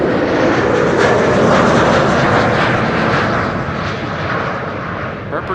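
A German Airways airliner operating for KLM arrives from Bristol at Amsterdam Schiphol Airport, its engines giving a loud, steady roar that swells and then eases slightly as it passes.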